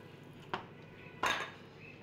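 Mustard paste being mixed into hilsa fish in a bowl, heard as two sharp clinks of a utensil against the dish, the second louder and longer, with quiet scraping between.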